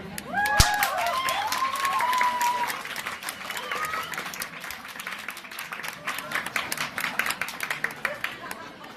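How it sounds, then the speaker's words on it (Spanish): An audience at a high school talk on violence against animals breaks into applause, a broad crowd clapping that swells then thins, with chatter and a few whoops and voices rising over it. "Recibámosla con un aplauso."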